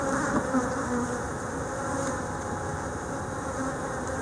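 Honey bees buzz steadily and densely around an open hive during an inspection, a continuous close drone with no talk.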